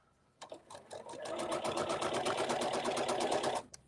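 A sewing machine stitches a scarf, starting with a few hesitant stitches and then running in a fast, steady, close mechanical rattle before stopping.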